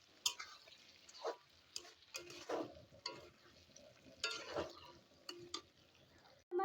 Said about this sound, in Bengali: দিয়ে এবার আমি মশলাটাকে ভালো করে নেড়ে চেড়ে নেব।